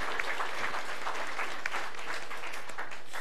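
A church congregation applauds the choir in a steady, dense wash of clapping from many hands that fills the room evenly without letting up.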